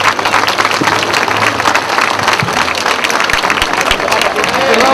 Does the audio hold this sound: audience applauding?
yes